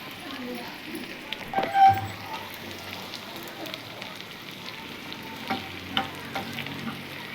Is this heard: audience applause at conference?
no